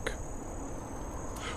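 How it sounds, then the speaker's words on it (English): Crickets chirping at night in quiet fields, a steady high-pitched trill held faintly under a low, even background hiss, with no voices. "Only the crickets remained awake."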